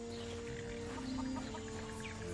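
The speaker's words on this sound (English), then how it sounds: "Holy crap, there's ducks." Ducks in Skyrim VR giving soft clucking, quacking calls in a quick irregular series over a low steady hum, fairly faint and with no talk.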